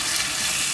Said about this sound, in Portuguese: Já deixei a panela esquentar um pouquinho com um pouquinho de azeite. E agora eu vou colocar os filés.